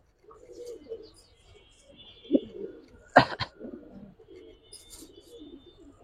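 Giribaz and high flyer pigeons coo softly in low bursts, broken by a sharp flutter or clatter near the middle, with faint chirps in the background.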